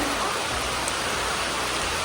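Rain falls steadily in a soft, even hiss, fairly close and unbroken.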